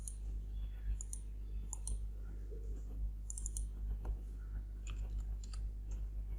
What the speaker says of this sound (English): So double click and change the value to 15.